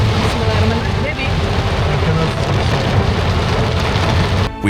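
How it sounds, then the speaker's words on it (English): Heavy rain pours down steadily during a river trek to Madakaripura waterfall in East Java, a dense, loud wash of noise that fills the whole stretch and breaks off briefly near the end. "heavy rain forced us to stop"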